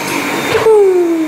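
A household vacuum cleaner runs loud and close in a family home, a harsh steady roar that drops into a lower whine as its pitch slowly falls, with no one talking.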